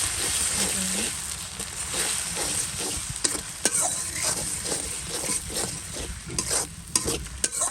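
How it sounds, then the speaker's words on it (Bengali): Ginger and garlic fry in oil for a curry with a constant close sizzle, broken by repeated scraping stirs and spoon taps against the pan. "এরপর হচ্ছে একটু আদা রসুন দিয়ে দিচ্ছি এটাকে ভালো করে ভেজে নেবে"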